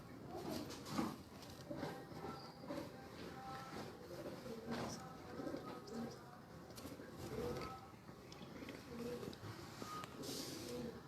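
Pigeons in a loft, including old birds, coo softly and repeatedly over continuous shuffling and rustling noise, with the cooing rising and falling throughout.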